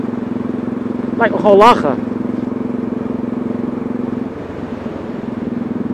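A motorcycle engine idles steadily at close range, a low even rumble running throughout while someone talks over it and a brief burst of laughter cuts in partway through.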